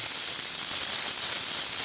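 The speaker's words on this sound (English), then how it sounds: "if we were to open this up, let some water out. Nice, really strong steam" An espresso machine's steam wand blasts a strong, steady hiss of steam, loud and close, continuing unbroken with no talk.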